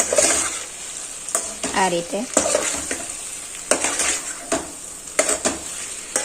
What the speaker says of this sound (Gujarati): તો આ પાસ્તા છે તે આપણે એડ કરી દેશું। મિક્સ કરી દેશું